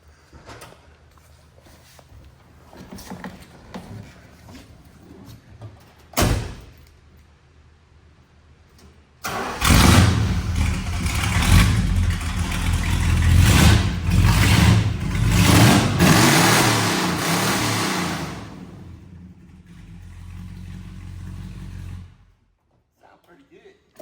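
An original, unrestored Dodge Super Bee engine cranks and catches on the first try, then runs loud and rough with revving for over ten seconds before settling and cutting off, with some talk nearby.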